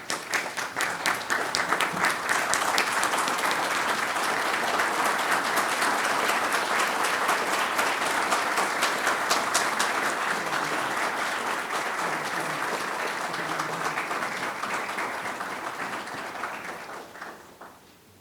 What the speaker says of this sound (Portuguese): Todos em pé, vamos aplaudir.